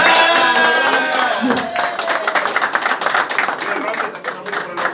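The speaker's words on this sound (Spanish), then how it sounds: "Vamos a dar un aplauso a Luis Romeo." Hands clap at an outdoor asado gathering with former boxers, a burst of applause from a small crowd that starts loud and thins into scattered claps, with voices mixed underneath.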